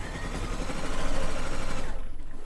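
A sewing machine stitching down quilt binding, a fast continuous mechanical whirr of the needle running close and steady before stopping near the end.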